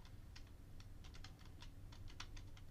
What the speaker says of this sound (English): You got to type this command.